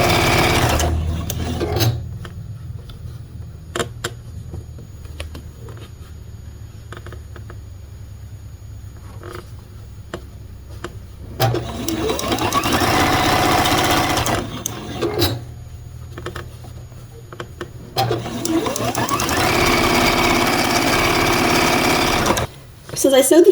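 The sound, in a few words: sewing machine sewing quilt rows together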